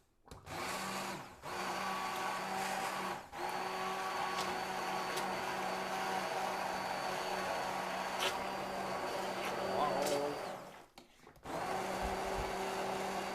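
An immersion blender motor whirs loudly and steadily through leek and potato soup, cutting out briefly a few times before starting up again; no one speaks.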